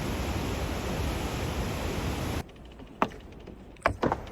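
Roaring waterfall cascade in Québec, a dense steady rush of water for about two seconds that then cuts off abruptly to a much quieter background with a few short knocks.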